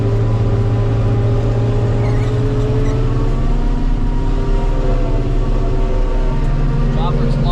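A forage chopper harvesting a corn field, producing a loud, steady mechanical drone with a low hum throughout and voices at times.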